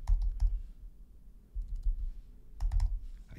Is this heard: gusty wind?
no